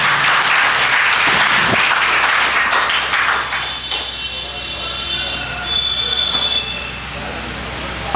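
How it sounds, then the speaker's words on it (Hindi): Loud, dense applause from an audience honouring Gurukul girl students after a Vedic recitation, a steady wash of many clapping hands that holds throughout and eases slightly toward the end. "गुरुकुल की छात्राएं जोरदार तालियों द्वारा आप उनका सम्मान करें।"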